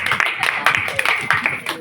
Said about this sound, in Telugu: సర్లే కూర్చో, క్లాప్స్ కొట్టండి.